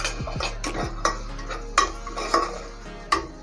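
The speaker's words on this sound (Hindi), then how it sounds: "अब इनको अच्छी से हमें मिक्स कर देना जब तक ये सुनहरे कलर में ना आ जाए" Okra is stirred in a pan with ginger paste, cumin and salt for spicy fried lady finger, with scattered sharp clinks of a spoon against the pan over a low, steady background.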